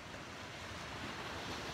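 Ocean surf washes steadily onshore in a broad, continuous hiss and roar, fairly faint with some wind noise on the microphone and no voices.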